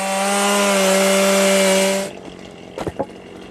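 A loud chainsaw drones steadily for about two seconds while cutting wood for joinery, then cuts off, leaving a few brief knocks and thumps of wood.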